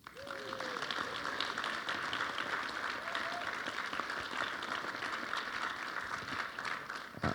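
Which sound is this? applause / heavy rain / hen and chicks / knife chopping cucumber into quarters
applause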